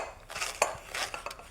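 A hand-cranked food mill blade scrapes and turns over hot boiled potatoes, giving soft metallic grinding and scraping with a few sharper clinks, fairly quiet and close.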